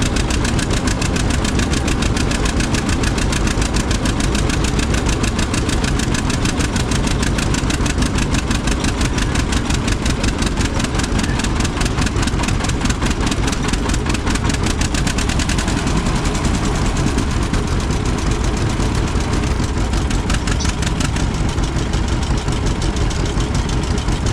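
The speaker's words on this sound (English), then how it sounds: "It puts a load on the tractor, and then you can tell how many horsepower the tractor has." A tractor engine of about 8.5 horsepower pounds steadily under heavy load on a horsepower test, a loud rapid chugging that holds constant throughout with no talking.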